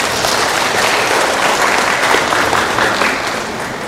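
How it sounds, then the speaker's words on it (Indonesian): A large audience at a hospital's 36th anniversary celebration applauds loudly and continuously, a dense wash of many hands clapping that holds steady and eases slightly near the end. "Tepuk tangan untuk kita."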